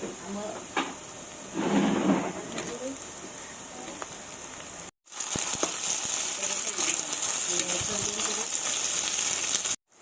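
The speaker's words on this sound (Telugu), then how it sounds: "ఇప్పుడు ఇందులోనే మనం కోసి పెట్టుకున్న క్యాప్సికమ్ అయితే వేసుకుందాం" Chopped capsicum added to onions frying in a pan for a capsicum meal maker masala curry, a steady close sizzle with a brief burst of clatter early on and a short cut midway.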